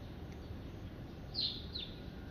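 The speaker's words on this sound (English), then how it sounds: "there's a whole lot of birds around here" Around a rental house in the Gambia, a couple of short, high bird chirps ring out over a quiet, hushed outdoor background, faint and somewhat distant.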